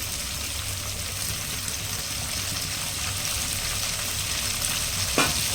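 Flat beans (country chikkudu kaya) fry in a pan with a steady, even sizzle that carries on throughout, and a light clatter of stirring comes near the end.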